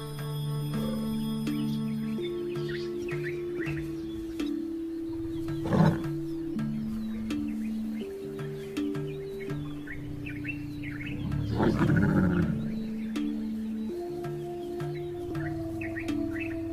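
A lioness and a male lion roar and grunt on the African savanna, two swelling low roars rising near the middle and end, with chirping birds and a steady droning hum in the background.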